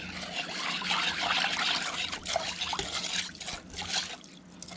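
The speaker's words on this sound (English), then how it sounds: "Give that a quick stir." Pickling brine for quail eggs trickles and sloshes as it is stirred, with a steady liquid swirl and soft clinks close by and no talk.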